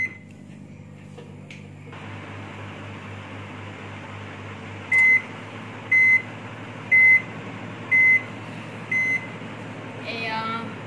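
A microwave oven heating pudding hums steadily and close by, then five evenly spaced beeps sound near the end, followed by a brief clatter.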